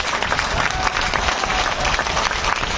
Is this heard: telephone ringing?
no